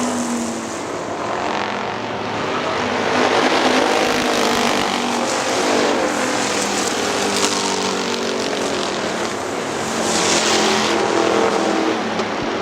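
Factory stock race cars roar around Hartford Speedway Park, a loud continuous engine drone that swells and fades as the pack passes, with no voices heard.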